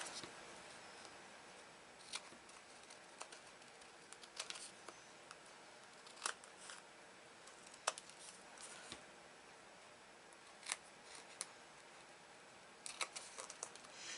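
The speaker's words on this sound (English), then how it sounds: "I'm just going to go around and snip off the excess." Scissors snip the excess paper from a handmade Valentine's treat box, scattered sharp faint clicks and cuts at an uneven pace in a quiet room.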